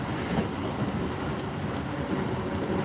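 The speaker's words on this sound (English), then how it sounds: "I am on an express train or a commuter rapid, part of the Takasaki line." Express commuter train on Japan's Takasaki line rumbles steadily from inside the car, a continuous low roar of wheels and motors with faint rail clatter throughout.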